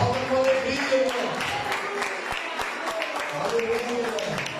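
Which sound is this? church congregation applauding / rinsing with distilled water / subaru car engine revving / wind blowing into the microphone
church congregation applauding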